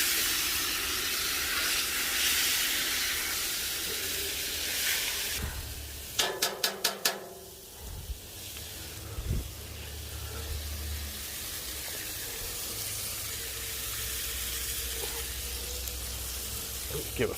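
Baby back ribs sizzle and hiss on a Blackstone griddle, a steady broad frying noise throughout, briefly broken by a quick run of sharp scraping clicks as a spatula flips the meat.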